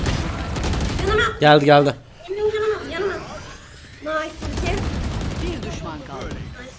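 Rapid gunfire bursts from the Valorant video game crackle under excited voices, with shots scattered through the stretch and players talking over them.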